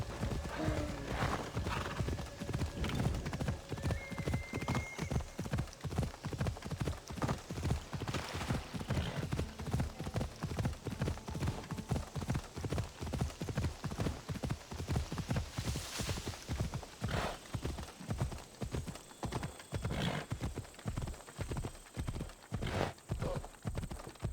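Horse hooves beat a fast, steady clip-clop while riding in the video game Assassin's Creed Odyssey, running continuously for over twenty seconds with an occasional whinny and faint game sounds behind.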